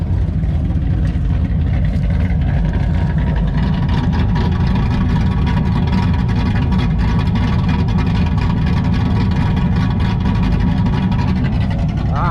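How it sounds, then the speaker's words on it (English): Exhaust of a cammed LT1 Pontiac Trans Am idling, with a loud, steady, rumbling lope and a deep low-end burble that continues unbroken throughout, close and alone. "let's listen to that sweet exhaust one more time."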